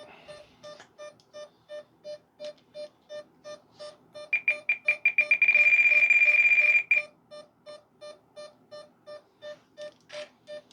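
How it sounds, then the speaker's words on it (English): Electronic speed controller of an FMS J-10 64mm EDF RC jet beeps while arming: a steady train of short regular tones, then a faster burst and a sustained tone before the slow beeps resume, close and clear. "ESC's trying to arm."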